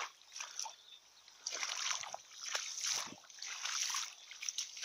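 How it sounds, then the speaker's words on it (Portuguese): Floodwater from an overflowed river after heavy rain keeps running across a wet calf pen, a faint, steady rushing and splashing with soft sloshes rising and falling throughout. "Tá correndo água ainda."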